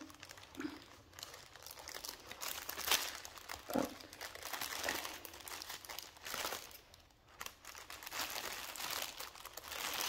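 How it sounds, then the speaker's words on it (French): Delivered parcel being opened by hand for an unboxing of diamond painting supplies, close crinkling and tearing of plastic and paper packaging with soft rustles, quiet and continuous. "Donc je vais ouvrir ça avec vous."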